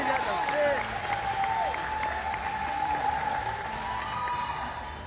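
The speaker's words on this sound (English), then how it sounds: "Everyone, can we get applauded for Canadians?" A crowd at Sonic Expo, a fan convention, claps and applauds steadily for several seconds, loud and close, with cheering voices mixed through the clapping.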